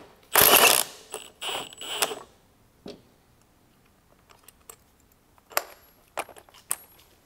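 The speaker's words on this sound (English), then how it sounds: "remove the gauge wheel with a 15/16 socket, taking care not to lose the shims behind the gauge wheel" A socket ratchet clicks in short bursts close by as a gauge wheel is unbolted from a seed boot, with metallic clatter in between and quiet pauses.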